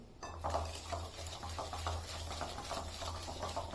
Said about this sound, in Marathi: आता ना मी एकाच डायरेक्शनला फेटते हे